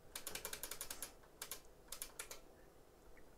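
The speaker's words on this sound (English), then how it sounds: "A computer that makes no noise apart from the sound of the keyboard." A clicky mechanical computer keyboard is typed on in quick bursts of sharp, close keystrokes with short pauses between them, and the room is otherwise quiet.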